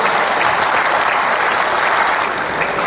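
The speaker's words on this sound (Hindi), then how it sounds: "मतलब आपके लिए जोरदार तालियां होनी चाहिए। जोरदार तालियां, जोरदार।" Loud, dense applause from a large crowd, sustained and even throughout with no pauses.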